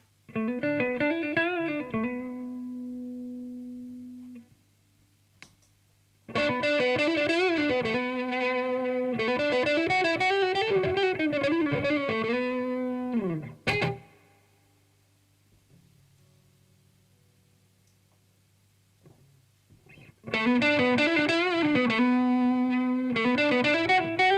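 Electric guitar run through a Dark Triad overdrive distortion pedal, clean setting then silicon diode: sustained distorted chords ring out in long bursts separated by pauses, with a steady low hum between them.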